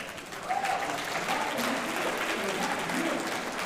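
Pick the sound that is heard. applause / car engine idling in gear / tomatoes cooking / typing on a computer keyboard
applause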